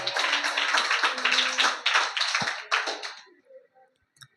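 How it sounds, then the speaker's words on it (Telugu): A church congregation claps loudly after a prayer, a dense burst of hand claps that carries on for about three seconds and then dies away, leaving a few scattered claps and a quiet room. "గట్టిగా చప్పట్లు కొడదాం."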